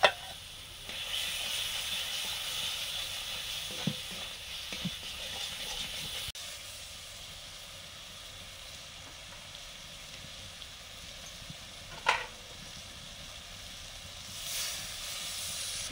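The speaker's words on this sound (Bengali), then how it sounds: "একটু জল দিয়ে মশলাটা কষে নিচ্ছি।" Masala with cashew paste and a splash of water sizzles and hisses steadily in a pan while cooking paneer butter masala, a broad continuous fry with a few brief louder spits and no talking.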